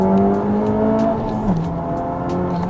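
A 2018 Honda Civic Type R FK8 engine roars loudly up close in race mode, revving and accelerating with a pitch that climbs and then drops as the gear shifts.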